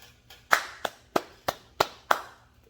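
Hands clap six times in a steady rhythm, each sharp close slap spaced about a third of a second apart, with nothing else happening around it.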